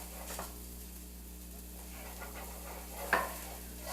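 About two minced garlic cloves sizzling softly in a pan with occasional stirring scrapes and a small utensil clink, over a steady low kitchen hum.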